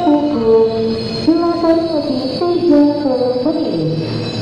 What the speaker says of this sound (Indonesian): jalur 3 dari arah utara akan segera masuk kereta api Saka tujuan stasiun Yogyakarta